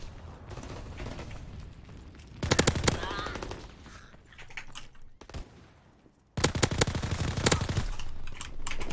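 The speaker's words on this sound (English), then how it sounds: "The new LMG that got released is so crazy. It's called the Stinger." Bursts of Stinger light machine gun fire in an online shooter video game, two loud sustained volleys of rapid automatic shots separated by quieter stretches of in-game ambience.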